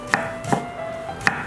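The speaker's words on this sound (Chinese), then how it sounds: "这样切薄片，再切丝" Knife slicing peeled radish into thin pieces against a board, with three quick, crisp, close chops in an uneven rhythm and no talking.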